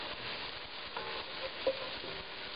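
Flour being stirred into a roux for Cajun crawfish étouffée, a steady soft scraping and sizzle in the pot with a faint clink partway through, close and continuous without talk.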